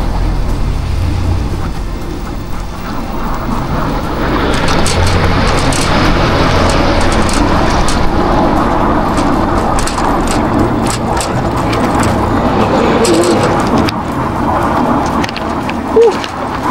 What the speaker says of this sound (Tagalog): Traffic po ngayon dito. Gawa nga may ginagawa kalsada.